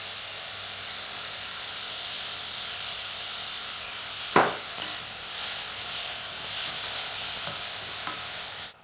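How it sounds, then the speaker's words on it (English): Shashlik meat seasoned with spice mix, pepper, salt and paprika sizzles loudly and continuously in a hot pan, a steady close frying hiss with one brief clank of stirring midway. "Roast it properly once."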